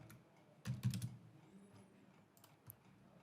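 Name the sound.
typing a name on a computer keyboard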